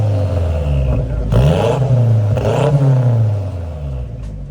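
Exhaust revs from a first-generation Mazdaspeed 3 fitted with a Corksport downpipe and HKS exhaust: a loud, close idle rumble broken by two sharp throttle blips that rise and fall, with no talking.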